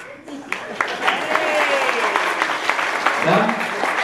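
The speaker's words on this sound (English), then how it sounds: "A round of applause, ladies and gentlemen, for Caleb and Valerie." Wedding guests at a reception clap in a sustained round of applause that swells after a quiet start, with voices calling out and talking over it.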